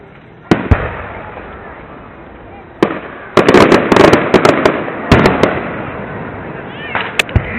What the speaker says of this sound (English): Massive firework.